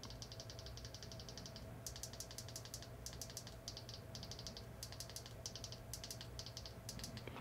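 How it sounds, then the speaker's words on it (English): A Google Pixel 7 in a CASETiFY case has its power and volume buttons pressed repeatedly, giving quick bursts of crisp, close clicks in short rapid runs over a steady low background hum. "let's go ahead and do the clicky button test"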